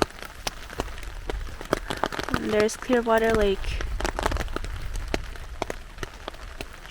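Rain falls at a lakeside spring campsite as a steady patter of close, crisp drops hitting a surface, continuing under and around a person speaking partway through.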